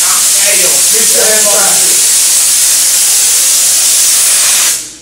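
Aerosol spray can releasing a loud, steady, close hiss for nearly five seconds before cutting off abruptly, with faint voices underneath.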